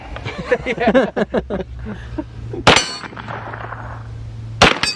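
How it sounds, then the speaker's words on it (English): Pistol caliber carbine rounds striking steel targets: rapid string of sharp metallic clangs ringing in quick succession, then two louder isolated impacts with ringing decay, heard at close range with no talk. "I love shooting steel with my pistol calibers and pistol caliber carbines"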